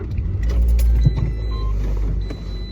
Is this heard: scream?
no